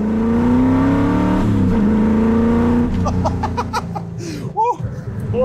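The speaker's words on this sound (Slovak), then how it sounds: "Teraz už cítiš tú silu toho auta, to nie je, že jednotka dvojka, nekáš trojku, tak to auto už chytá tú silu." A Ford GT40 race car engine roars loudly and close, revving through the gears with a rising pitch, then easing off as laughter and excited voices break in near the end.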